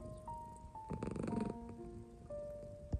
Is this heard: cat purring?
yes